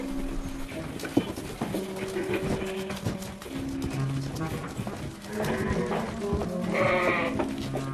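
Sheep bleat in a snowy Austrian Alps stable, several animals calling repeatedly over a busy, continuous background of movement and livestock noise, with cries overlapping and growing louder near the end.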